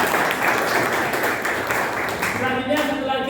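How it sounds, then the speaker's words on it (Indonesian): Classroom clapping from a group of students in an Indonesian lesson, a dense, steady patter of many hands lasting a few seconds with some voices mixed in near the end. "Tepuk tangan buat Alhamdulillah."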